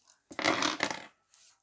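Coins clink together as they are tipped back into a paper budget envelope, one short close metallic jingle with a faint rattle before and after.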